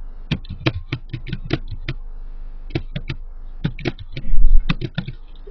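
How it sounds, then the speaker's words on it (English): Bursts of quick, crisp key presses on a computer keyboard entering a network ID, close and clicky, in two short runs with a pause between. "And so you'll type that in."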